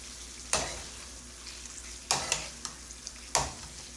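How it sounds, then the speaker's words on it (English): Egg curry cooks on high heat in a pan with a quiet steady sizzle. Three sharp stirring scrapes land about a second and a half apart, with lighter clicks in between. "Keep it on a high stove. So it has to cook for 3 minutes, guys."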